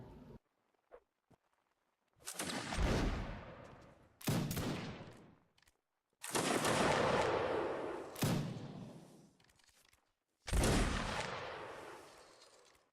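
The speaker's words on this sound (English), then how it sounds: "Prepare to fire by files from the right. Commence fire." Black-powder musket volleys from a historical infantry unit firing by files, five loud crackling bursts separated by short pauses, each rolling out and decaying.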